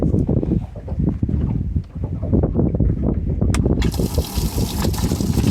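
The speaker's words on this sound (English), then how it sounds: "So when it's time to fill up this well, I just go ahead and" Water gushes and splashes steadily into the 16-gallon livewell of a 2020 Bass Tracker boat, switched on with the aerator switch, with a louder, brighter rush of flow in the last couple of seconds.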